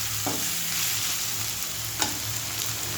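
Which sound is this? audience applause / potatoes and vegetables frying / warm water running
potatoes and vegetables frying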